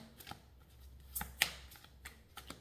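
Cards being shuffled close by, a series of crisp riffling snaps and soft slaps in uneven bursts, quiet and without talk.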